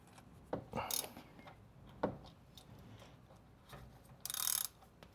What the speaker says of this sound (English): you will need a wrench for this